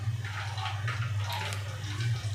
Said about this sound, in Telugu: జస్ట్ కొద్దిగా వాటర్ వేసి పప్పుల పొడి మొత్తం తడపండి.